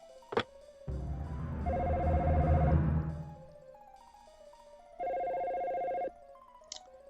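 Electronic telephone paging tones from the Dino Crisis video game, heard as two bursts of steady, buzzing ringing, the first longer with a low hum beneath it and the second shorter and cleaner, with quiet gaps between.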